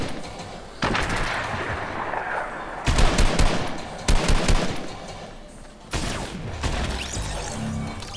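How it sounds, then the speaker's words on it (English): Fortnite gunfire comes in several loud bursts of rapid shots separated by brief lulls, with sharp impacts over a continuous game-audio backdrop. "I knew I heard a gun."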